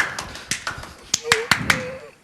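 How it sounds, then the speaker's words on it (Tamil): A handful of separate hand claps from people gathered at a comic stage event, irregular and close, mixed with short bits of speech. "கைத்தட்டா."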